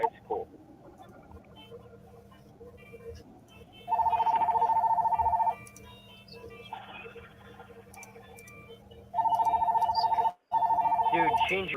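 A phone ringtone rings loudly in two bursts of a steady, high, repeating electronic tone, cutting across ongoing conversation between people talking nearby.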